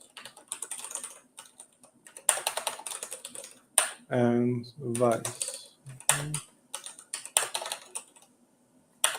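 Fingers type on a computer keyboard during a Neovim coding session for C#, with rapid bursts of close clicks broken by short pauses, and a person talks briefly in the middle.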